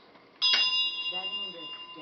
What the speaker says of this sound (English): But when you strike a bell, when I strike a bell, it's the prayer.